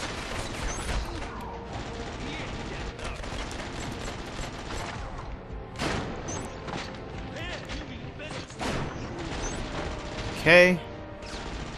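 Video-game gunfire in Killzone Mercenary on PS Vita, with scattered shots and bursts over a busy background score, one sharper loud crack near the end, and a voice briefly speaking.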